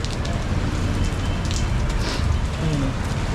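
Steady rain patters on a surface outdoors near a transport terminal, a dense continuous hiss with faint voices and low traffic rumble mixed underneath.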